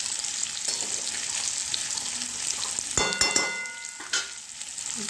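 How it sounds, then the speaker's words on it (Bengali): Village-style dried fish fries in a pan with salt: a steady sizzle, broken near the middle by sharp clatters and scrapes of stirring, then another brief clink before the sizzling settles again. "একটু দিয়ে তাকে খুব ভেজে নেব।"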